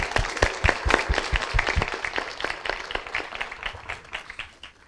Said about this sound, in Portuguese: uma salva de palmas para os professores.